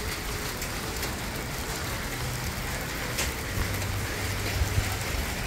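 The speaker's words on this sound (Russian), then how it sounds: "Дождик крупный." Steady heavy rain pours down in Taraz, Kazakhstan, in a continuous broadband hiss, with occasional louder patters and faint low rumbles underneath.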